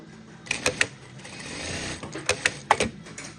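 Durkopp Adler industrial sewing machine stitching with its thread nipper engaged: two quick runs of sharp mechanical clatter and clicks over a steady motor hum, close up and without talk.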